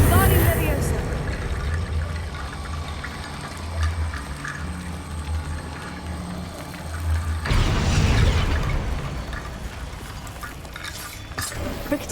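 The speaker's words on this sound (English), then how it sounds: "Rickety bone bridge complete." A rickety bone bridge assembles itself in Hogwarts Legacy with a run of clattering, ratcheting mechanical noise over a low game rumble, shifting into a brighter, busier burst partway through.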